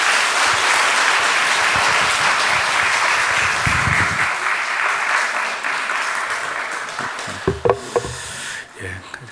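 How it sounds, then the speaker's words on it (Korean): A church congregation at Sunday worship applauds together, a loud, dense wash of clapping that gradually thins and fades, ending with a few scattered claps and knocks. "격려의 박수 드리도록 하겠습니다."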